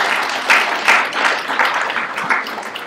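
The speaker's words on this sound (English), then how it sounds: "Big round of applause," Hands clap together as a lecture class gives a student a welcoming round of applause. The clapping is steady and sustained, with a few louder bursts standing out through it.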